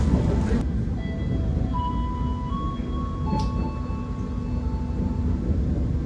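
The Manahan executive passenger train rolls into Yogyakarta station, a steady low rumble of wheels and carriage noise with faint high tonal whines drifting above it and a couple of brief clanks.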